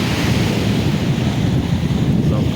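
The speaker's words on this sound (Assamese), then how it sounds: "পূৰা পানীৰ ঢৌত লাহে লাহে গৈ আছে" Sea waves and wind surround a fishing boat out on the water, a loud, continuous broadband rush with no pauses and no voices.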